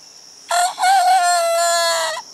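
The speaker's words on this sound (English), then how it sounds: "I hear a rooster." A rooster crows once, loud and close, with a brief catch near the start before a long, drawn-out call, in a garden on a quiet Sunday morning.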